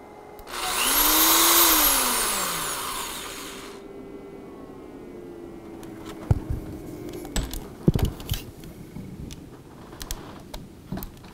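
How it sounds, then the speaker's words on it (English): A powerful 600-watt electric drill whirs up briefly and spins down, followed by scattered clicks and clatter of handling nearby. "And then we have another unit here, which is a powerful drill."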